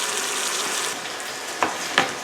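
Chicken browns in a pan for a stew with a steady close sizzle, then two sharp scraping clacks of a utensil near the end, no voices.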